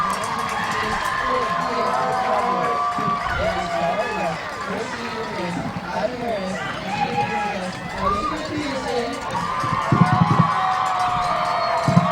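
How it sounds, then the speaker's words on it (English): Loud, raucous homecoming crowd at a football game, a steady wash of cheering, whoops and shouting children that continues throughout, with commentators talking over it and a few louder bursts near the end. "it's a loud and raucous crowd"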